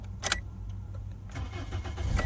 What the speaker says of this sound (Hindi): अच्छा जी, गाड़ी को करते हैं अब स्टार्ट।